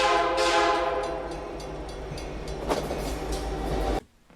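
A train rumbles past with a loud, sustained horn blast riding over the rolling clatter, cutting off abruptly into near silence.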